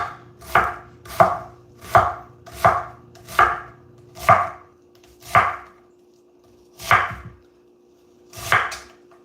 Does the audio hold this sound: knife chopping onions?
yes